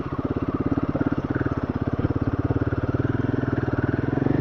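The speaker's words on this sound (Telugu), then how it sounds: "ఈ స్కూటీలు కూడా ఇప్పుడు ఆఫ్ రోడ్ చేసి వచ్చినాయి" Scooters ride off-road on a rough trail, with a close, steady pulsing engine drone whose even throb runs throughout and no voices.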